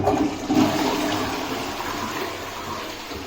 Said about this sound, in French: Une petite chasse d'eau Tour Eiffel.